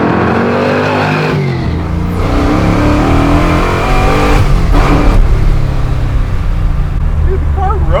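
A garage-built 1967 Ford Mustang drives and revs, its loud engine rising and falling in pitch through several throttle blips and gear changes, heard from close by over road noise.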